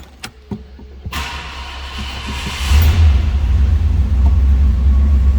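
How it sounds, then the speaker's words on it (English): A 1967 Ford Galaxie 500 XL convertible's 390 V8 starts after a few clicks and a brief crank, then settles into a loud, steady, close rumbling idle. "So let's go ahead and start this 390 up."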